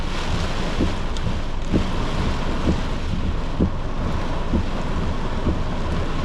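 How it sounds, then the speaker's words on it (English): A dangerous thunderstorm over Brisbane's north side and CBD brings a constant roar of wind buffeting the microphone, with faint dull thumps of rumbling thunder beneath it. "Very dangerous thunderstorm currently moving through Brisbane CBD, Brisbane's north side."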